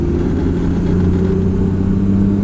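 A Toyota Land Cruiser with an underpowered 1HZ diesel engine drones loudly and steadily from inside the cab while overtaking, a deep, continuous rumble with no voices.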